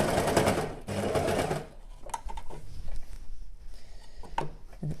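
An overlocker sewing machine stitches fabric in two short, loud, rapid bursts, then drops to quieter handling and clicking sounds nearby.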